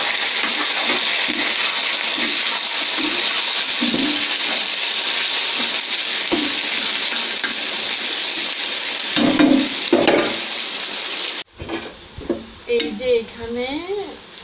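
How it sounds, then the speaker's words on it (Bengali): Onion and garlic sizzle in hot oil in a pan with red chili, a steady frying hiss broken by stirring scrapes, before a voice takes over near the end. "এখন দিব আমি পেঁয়াজ আর রসুন।"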